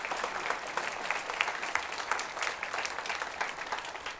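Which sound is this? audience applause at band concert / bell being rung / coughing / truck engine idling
audience applause at band concert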